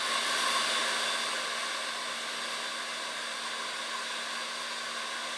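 An iTeraCare anti-redness device blows air at level one, a steady close hiss of rushing air like a small hair dryer, continuous and alone with no talking.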